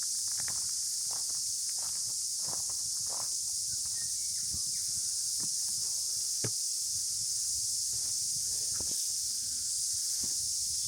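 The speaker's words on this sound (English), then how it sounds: "Here's the cicadas, they're all around just now, peak season for them." Cicadas at peak season drone in a constant high, loud shrill along a hillside hiking track, with close footsteps and rustling underneath.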